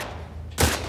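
Gunfire in The Last of Us Part II, a single loud, sharp shot bursting in near the end of a short quiet stretch of game sound.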